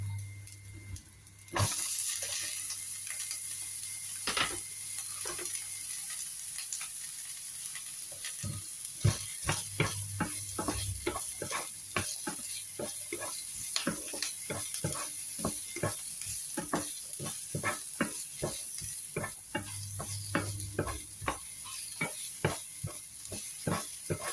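Chopped onions sizzle in hot oil for a chicken curry, a continuous close frying hiss broken by frequent scraping and tapping strokes as a utensil stirs the pan, with a low hum underneath.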